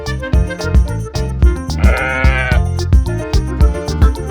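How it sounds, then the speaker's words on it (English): A single wavering sheep bleat rises over a bouncy, rhythmic children's nursery rhyme music track. "who is going to guess what the sheep say?"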